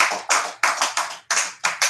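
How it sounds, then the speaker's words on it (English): Short bursts of audience clapping at a monthly meeting, several sharp separate rounds of claps in quick succession, close and fairly loud with no talk. "Clap it up for DC, everybody."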